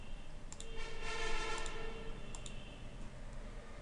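A few sharp, quiet mouse clicks on a computer as table rows are selected, spaced about a second apart over a soft background hiss.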